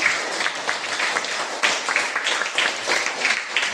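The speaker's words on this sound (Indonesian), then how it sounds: "tepuk tangan buat teman." Classroom group clapping for a student group after its presentation, a brisk, fairly loud rush of hands with uneven bursts and faint voices underneath.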